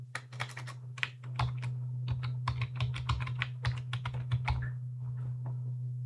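A password is typed on a computer keyboard as a quick run of crisp, close key clicks over a low steady hum, slowing and fading near the end.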